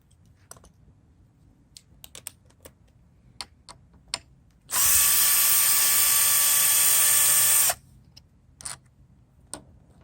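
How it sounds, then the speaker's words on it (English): Power driver with a 6mm hex bit removing a bolt on a Ducati Monster 1200, a loud, steady whine lasting about three seconds, set among scattered small clicks and taps. "remove the existing bolt with a 6mm hex bit"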